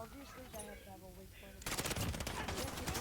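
Rapid automatic gunfire from a gun in Call of Duty Warzone erupts suddenly midway, a loud continuous burst of fast shots following a quieter stretch of game sounds.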